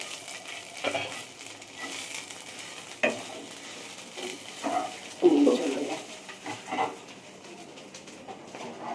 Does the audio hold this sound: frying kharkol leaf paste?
yes